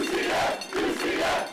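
UCF college football fans cheer and shout wildly on game day, two loud bursts of crowd yelling rising and falling up close.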